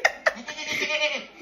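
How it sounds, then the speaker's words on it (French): A goat bleats from an Alexa smart speaker: two sharp clipped onsets, then a wavering, nasal bleat lasting about a second, close and moderately loud. "Voici un son de chèvre."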